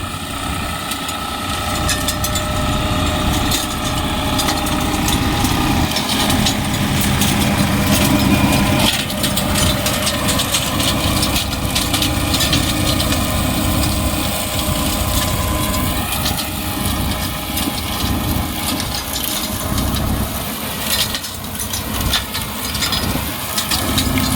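A tractor drives a Jagatjit mulcher through a field, a loud, steady engine drone mixed with continuous grinding and crushing that carries on without a break throughout.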